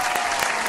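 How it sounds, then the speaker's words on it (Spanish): A short burst of applause from a small group of friends on a trip, dense and close for a brief moment. "Un aplauso."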